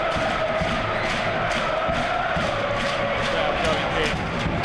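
Dense, roaring football crowd cheering and shouting continuously inside Leicester City's King Power Stadium during a Leicester v Watford match, loud and unbroken throughout.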